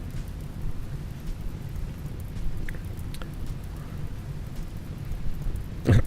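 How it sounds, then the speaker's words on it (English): Rain in a RimWorld colony, a soft continuous patter with scattered drops and faint low rumble, quiet and steady, ending in a brief louder low thump. "Thank you for the rain."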